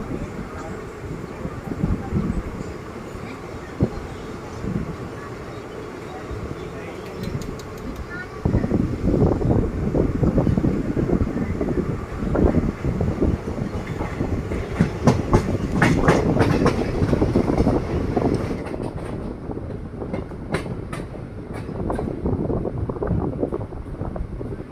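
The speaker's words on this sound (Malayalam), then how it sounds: "വീണ്ടും കാസർഗോഡ് റെയിൽവേ സ്റ്റേഷനിൽ നിന്ന് പുറപ്പെട്ടിരിക്കുകയാണ്." An intercity train runs just after pulling out of Kasaragod railway station in Kerala, with a loud, continuous rumble and rhythmic wheel clatter mixed with wind buffeting that builds midway and carries on steadily.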